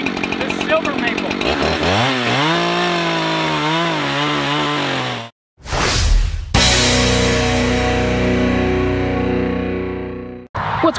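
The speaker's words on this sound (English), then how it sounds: "Today, we're finally milling the silver maple." An Alaskan chainsaw mill cutting a silver maple log, loud and close, the engine revving with rising and falling pitch, cutting out briefly, then roaring back at a steady high drone.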